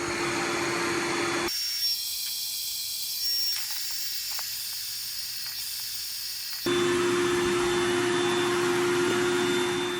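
An electric pump inflates an Intex Ultra-Plush air mattress with a headboard, a loud continuous whooshing motor roar that turns muffled and quieter in the middle, then returns to full strength, close by with no talking.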